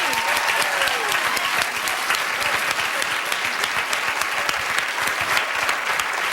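Steady applause from an audience, dense clapping sustained throughout at an even level.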